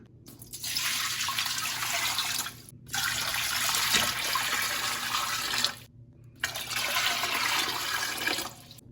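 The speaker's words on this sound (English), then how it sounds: "we're going to fill the pot with 3 quarts of water" Water gushes steadily from a tap into a canning pot, three quarts in three long pours, with brief breaks between them, close and continuous.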